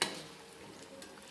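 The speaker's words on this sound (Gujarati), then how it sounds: "સરસ મજાની હળદર ઘીમાં શેકાઈ ગઈ છે" Green turmeric roasts in ghee in a pan, giving a soft steady sizzle with faint stirring scrapes, quiet and brief with no talk.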